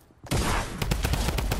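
A drum gun in the video game Fortnite opens up after a brief quiet moment, firing a loud, rapid stream of shots that keeps going to the end.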